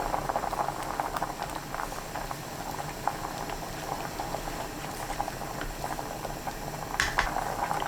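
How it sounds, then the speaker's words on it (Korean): Perilla leaf doenjang soup with potatoes boils hard in a lidded pot over high heat, giving a constant close bubbling and liquid patter with no voices. "감자 넣고 뚜껑 닫아 센 불로 10분 끓입니다"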